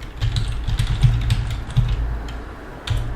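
Fingers tapping keys on a computer keyboard in quick irregular clicks over a low steady hum, close and clear, with no speech.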